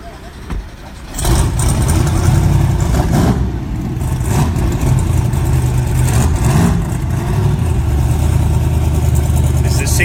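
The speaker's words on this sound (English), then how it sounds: "This is the 6-second RX3 we were talking about earlier." Engine of a 1900-horsepower RX3 drag car rumbling and revving at Sydney Dragway during testing, a loud, steady low-frequency roar kicking in after a quieter start, with voices faintly underneath.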